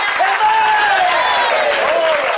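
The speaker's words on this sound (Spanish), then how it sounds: "Fuerte ese aplauso" Church congregation applauding and cheering during a sermon, steady dense clapping throughout while a preacher's voice shouts over it.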